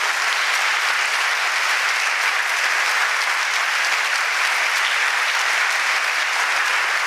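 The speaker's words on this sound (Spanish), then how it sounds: "Aplauso para Dios que hace maravillas en su iglesia." A congregation at a church feast-day celebration in Táchira, Venezuela applauds continuously, a dense, sustained wash of many hands clapping that stays loud and even throughout with no voices standing out.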